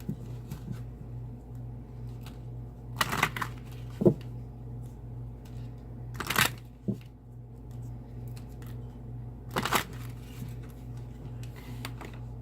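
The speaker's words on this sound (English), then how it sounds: "This is pre-shuffled, but I'm going to go ahead and shuffle it some more." A tarot card deck is shuffled in a few separate quick bursts of riffling cards, close up, between quiet pauses over a low steady background hum.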